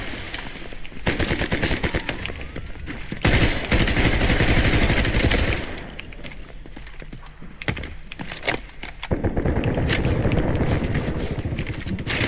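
Video game gunfire heard through a gaming headset: dense bursts of rapid automatic shots and booms, loud and close, with brief pauses between volleys and no talking.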